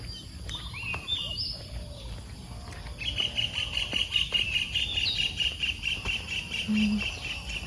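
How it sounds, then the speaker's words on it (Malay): Morning birdsong in a rural Malaysian village near a small mosque, with repeated chirps and tweets layered over a steady outdoor background, growing busier partway through. "Pagi ni dengar bunyi burung."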